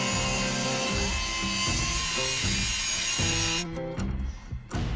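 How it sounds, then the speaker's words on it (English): A small angle grinder cuts through suspension parts on a 1957 Chevy, grinding loudly in repeated pulsing strokes close by before stopping and sputtering in short bursts near the end. "Kind of use Hillbilly's little grinder technique"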